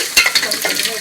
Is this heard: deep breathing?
no